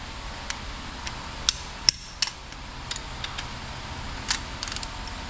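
Sharp metallic taps of a tool used as a hammer on engine parts of a 1969 Camaro Yenko SC, a handful of scattered light strikes over a quiet room background.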